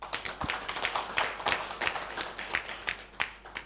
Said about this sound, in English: And let's clap for Dr.